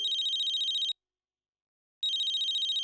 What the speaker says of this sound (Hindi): तुम्हारा फोन है ना ये?